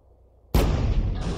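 Gas tank blowing up in Grand Theft Auto, a sudden loud blast after near silence, followed by a sustained roaring rumble that stays heavy to the end.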